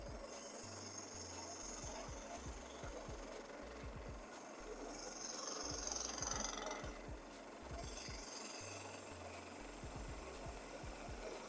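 A wooden blank spins on a lathe at about 800 RPM as a tool cuts it. The cut makes a steady, quiet rasping scrape with a low rhythmic thump from the turning piece, lasting the whole time without break.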